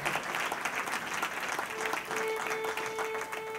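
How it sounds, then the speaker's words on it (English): An audience at a library concert claps for a string band, a dense patter of applause at moderate distance that carries on steadily, with a faint sustained tone entering partway through. "we really just like to hear you clap for us"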